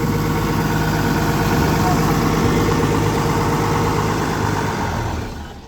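A Korean car's engine idles in a steady, loud low rumble with even vibration, then fades away as it is switched off near the end.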